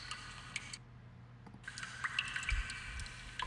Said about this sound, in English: And the second one is water dripping.